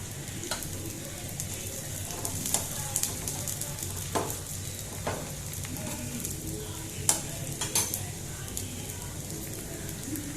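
Oil sizzles quietly under a spring onion dosa in a pan on a medium flame, a soft continuous hiss dotted with sharp clicks and pops at irregular moments.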